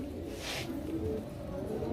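Pigeons of breeds such as silver, beji, gorra, chila and kaldam coo close by, a low, soft throaty murmur continuing through the short moment with no talking.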